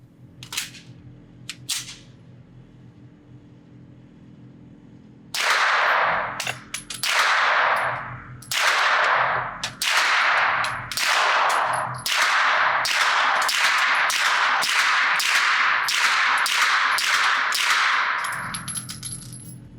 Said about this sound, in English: shoot this gun at a further distance, put another magazine through it